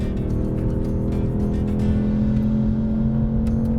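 A loud Ford Mustang Dark Horse 5-liter V8 drones steadily on a race track with a strong low rumble, revving out past 7,000 RPM throughout, with no voices.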